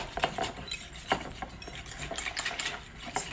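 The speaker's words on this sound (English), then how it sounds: "I'm gonna whisk it a little." A whisk clinks and scrapes against a bowl while stirring a yogurt lemon sauce for cranberry coleslaw, with light, irregular metallic taps and swishes at close range and no talking.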